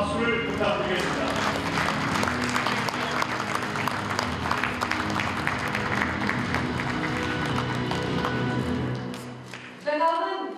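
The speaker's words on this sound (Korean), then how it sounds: "최고의 마무리 우승한 선수에게 다시 한번 큰 박수를 부탁드리겠습니다." At a baseball awards ceremony, a large crowd gives sustained applause for a winning player, steady clapping with voices and an announcer-style talk layered underneath, tapering briefly near the end before a final swell.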